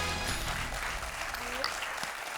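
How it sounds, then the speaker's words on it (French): Backstage at a TV quiz show, a crowd claps in a steady, dense wash at a moderate distance, with a voice briefly audible beneath it. "on vous applaudit en coulisses"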